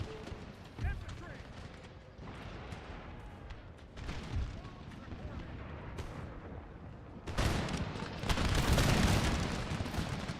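Musket and artillery volleys in an Empire: Total War battle, a rolling mix of gunfire and booming cannon that swells louder toward the end, with a voice talking over the battle noise.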